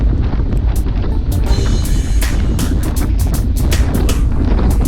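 Strong wind buffeting a microphone on a group bike ride in light rain, a steady loud roar with gusty bursts throughout.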